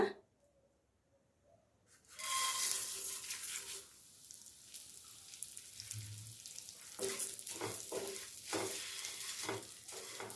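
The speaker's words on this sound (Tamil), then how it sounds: "இப்போ இன்னும் கொஞ்சம் நெய் சேர்த்து நம்ம அவலை வறுத்து எடுத்துக்கலாங்க." Flattened rice (poha) roasting in ghee in a pan, starting after a near-silent opening and building to a crackling sizzle, then a pause before spatula stirring and scraping in short repeated strokes, close and moderately soft.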